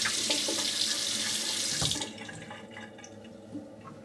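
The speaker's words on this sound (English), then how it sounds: "Alright, I think it's time for a rinse." A tap runs steadily into a sink for rinsing, loud and close for about two seconds before being shut off, leaving faint drips and small splashes.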